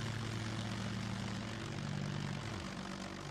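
A propeller airplane engine drones steadily in the game Scum, loud and close, then dips in pitch near the end as the throttle eases.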